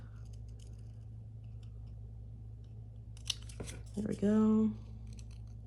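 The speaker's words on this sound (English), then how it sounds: "So let me grab my little scissors." Small scissors snip through a cardboard toilet paper core in a few short crisp cuts close by, over a steady low hum, with a person speaking briefly near the end.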